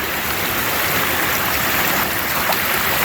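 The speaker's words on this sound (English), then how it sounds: "Another creek crossing." A creek rushes over a hiking trail crossing on the Ozark Highlands Trail, giving a steady, full wash of flowing water close by for the whole stretch with no talking.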